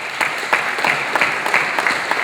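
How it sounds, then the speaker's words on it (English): Audience applause at a startup event: dense, steady clapping from a crowd, fairly close and loud, with sharper bursts of claps recurring through the short stretch. "So a big round of applause"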